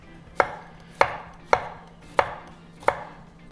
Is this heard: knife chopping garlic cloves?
yes